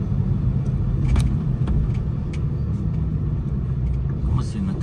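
Idling engines of trucks and buses parked at a motorway service area rest stop near Villeneuve, a steady low rumble throughout with faint passing vehicle noise and voices in the background.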